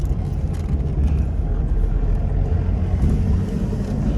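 A Fiat Panda 4x4 in four-wheel drive crawls in super low first gear, its engine a steady, close, low droning rumble with a slight whine layered over it, alone without talk.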